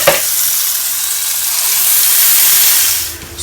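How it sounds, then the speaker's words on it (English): Shrimp pasta ingredients fry in a hot pan, a loud, steady sizzle and hiss held close for several seconds that fades slightly at the end, with no voices. "So we're just going to fry this up until it becomes a little bit darker"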